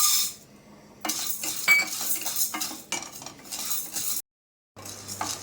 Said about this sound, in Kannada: ಕಡಲೆಬೇಳೆ ಚೆನ್ನಾಗಿ ಹುರಿದಿದೆ.